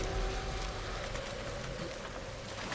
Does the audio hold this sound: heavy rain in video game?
yes